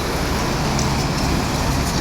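A tour bus carrying a Nasdem party group from West Sumatra pulls in at a restaurant in Palembang, its engine a steady, loud rumble blended with surrounding traffic roar, with no break in the noise.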